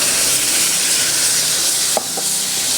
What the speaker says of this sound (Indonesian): Sekarang kita mau tumis si bumbu halusnya.